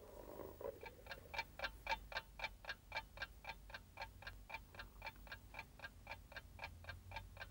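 A clock ticks in a fast, even rhythm of sharp, regular clicks that runs steadily throughout, quiet and alone.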